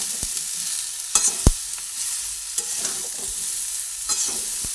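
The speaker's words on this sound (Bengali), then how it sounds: "সব একসঙ্গে দিয়ে ভালোভাবে নাড়াচাড়া করে নিচ্ছি" Cucumber curry being stirred and fried in a pan with Gobindobhog rice, a spoon scraping and knocking in irregular strokes over a steady soft sizzle, close and fairly loud, with no talking.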